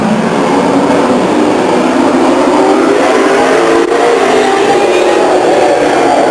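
Great American Modified race cars roaring around Stockton 99 Speedway during a trophy dash, a loud sustained blend of engines with rising and falling pitch as cars pass close by, dense and without pause.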